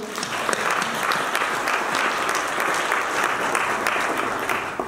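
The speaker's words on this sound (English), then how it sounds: "Can we clap for them, all the students?" An audience applauds award-winning students at a Cambridge Outstanding Learner Awards ceremony, with dense, steady clapping that fills the room evenly for the whole stretch and stays loud throughout.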